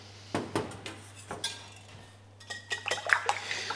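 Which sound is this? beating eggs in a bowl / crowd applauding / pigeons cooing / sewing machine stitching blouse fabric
beating eggs in a bowl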